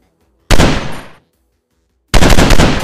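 Two loud bursts of automatic gunfire in Counter-Strike, the first lasting about half a second and the second starting after a brief silence, close and punchy.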